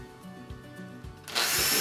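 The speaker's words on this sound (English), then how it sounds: "pilot drill the holes" A power drill whirs in short pulses, then bites into a door with a louder grinding burst at the end while drilling pilot holes.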